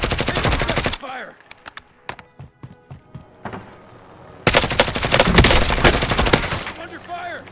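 Automatic gunfire in the video game Modern Warfare Warzone, loud sustained bursts at the start and again in the second half, with scattered single shots and thuds in between.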